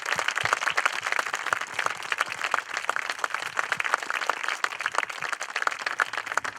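Audience applause for local business people at a community garden event, dense steady clapping from a crowd that carries on evenly throughout.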